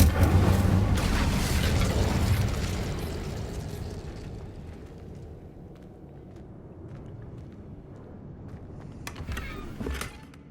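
A fire spell blasts off in Hogwarts Legacy with a loud, heavy whooshing burst that rumbles for a few seconds, then settles into a low crackling tail with a few sharp pops near the end.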